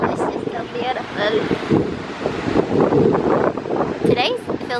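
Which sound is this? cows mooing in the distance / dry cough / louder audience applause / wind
wind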